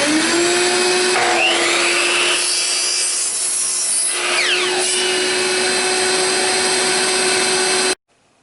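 A power saw cuts a 20-inch wooden leg for an Adirondack chair, a loud whining motor with the blade biting through the board for several seconds before the saw shuts off abruptly.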